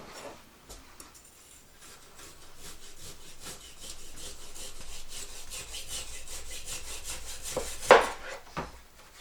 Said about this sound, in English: the reason why I freeze the roast first is because it makes it easier to shave